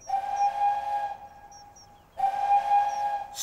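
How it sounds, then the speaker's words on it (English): Animated steam engine whistle blowing long and hard, two sustained tonal blasts separated by a short gap, clear and fairly loud with no talking. "Spencer whistled long and hard"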